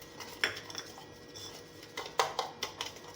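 A spoon clinks and scrapes against a pot while egg is mixed and sugar is added, a few sharp metallic taps scattered among softer stirring, close but quiet.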